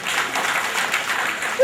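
Brief burst of audience applause at a Nigerian student and youth gathering, dense clapping mixed with crowd noise, ending with a sudden louder sound.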